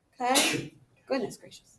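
A single sneeze bursts out in a classroom during a physics lesson, sharp and fairly close, followed by a brief spoken reaction.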